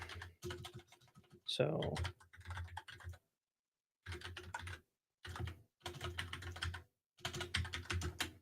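Fast, uneven typing clatters on a computer keyboard, with bursts of keystrokes broken by short pauses and one longer silence, close and fairly quiet, and someone speaks briefly near the start.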